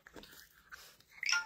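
Dogs make faint, close snuffling, wheezy breaths and chewing or biting sounds in short scattered bursts, with a slightly louder scrabble at the end and no speech.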